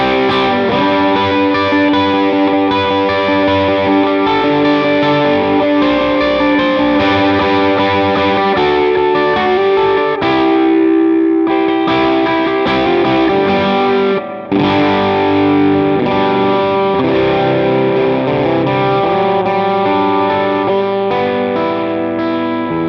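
An electric guitar plays through a worship-style preset with distortion and delay, a dense sustained wash of chords and ringing notes with chorus-like shimmer, loud and continuous with no talking.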